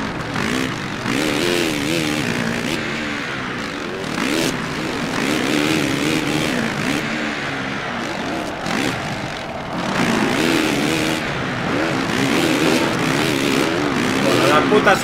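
A motocross motorcycle engine in MXGP drones and revs under continuous speech, its pitch rising and falling through throttle changes, with louder surges near the end.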